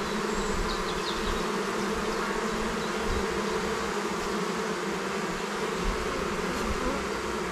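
A swarm of honeybees pours into a hive, a thick, continuous buzzing hum that stays loud and close, with faint higher insect whines drifting over the steady drone.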